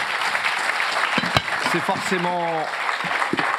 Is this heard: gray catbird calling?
no